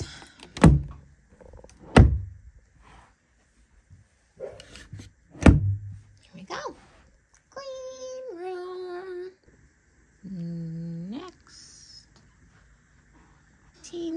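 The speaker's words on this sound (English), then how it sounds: "Just pushing these drawers." Drawers are pushed shut at home, landing as three distinct, loud wooden thunks spaced a second or two apart, followed by a few softer knocks and brief talking.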